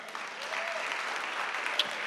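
A church congregation gives a round of hand clapping at a Sunday service, steady continuous applause heard at a moderate distance and somewhat faint.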